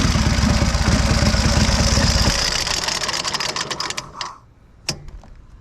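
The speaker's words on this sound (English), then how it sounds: "And that is a cold start on a 1928 Indian 101 Scout." A 1928 Indian 101 Scout motorcycle engine, started cold, runs with a loud, rapid, close-up mechanical chatter, then drops to an uneven idle that sputters and fades to near silence with one last pop.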